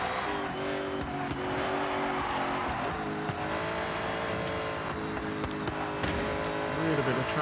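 A 1957 Ford Thunderbird engine in Forza Horizon 6 drones steadily at high speed, its harmonic whine sustained throughout with slight pitch shifts and brief tire noise, and a voice talking over it.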